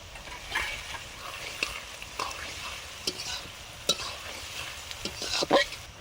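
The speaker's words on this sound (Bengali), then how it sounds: "প্রথমে রসুন বাটা দিলাম" Garlic paste frying in a pan with nearly browned fried onions, stirred with a utensil: a steady soft sizzle under repeated scraping clicks and taps that grow busier toward the end, close and alone, no voices.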